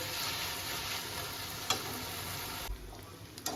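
Lote fish fries in a pan, giving a steady, moderate sizzle while it is stirred, with a few soft scrapes and clicks from the utensil.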